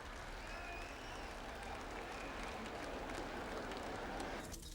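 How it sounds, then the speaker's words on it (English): Polite applause from a crowd during a royal visit by Charles and Diana, a faint, even patter of clapping sustained throughout with slight crowd murmur. "Polite applause"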